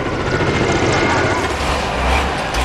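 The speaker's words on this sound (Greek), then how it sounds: "60 πυροσβεστικά οχήματα και πολλά αεροσκάφη αλλά και ελικόπτερα συμμετέχουν στην προσπάθεια κατάσβεσης." Firefighting helicopters work over large wildfires in northern Portugal, their rotor and engine noise forming a continuous, fairly loud drone.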